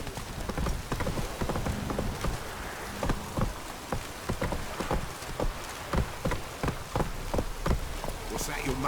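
Roach, the horse in The Witcher 3, gallops in a steady run of clip-clop hoofbeats that stay close and loud across the whole stretch, with rain-like patter underneath and no talking.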